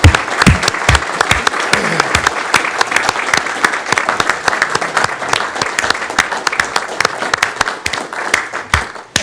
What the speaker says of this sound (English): we all should join at this point in giving each of you a hand for your outstanding